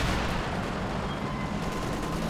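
MG34 machine gun fire rattles in Company of Heroes 2 amid a dense, loud wash of overlapping battle noise, rumbling explosions and continuous gunfire without clear pauses.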